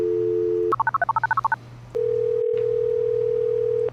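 A telephone dial tone hums steadily, then a quick run of about a dozen keypad touch-tones dials a number, followed by a long, steady ringing tone on the line.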